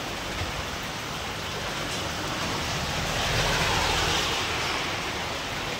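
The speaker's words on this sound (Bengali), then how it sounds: "জানি না এই বৃষ্টি বন্ধ হবে কিনা, আমি বলতে পারছি না।" Steady rain falls in front of a shop, a dense, even hiss that swells slightly midway, with no voices.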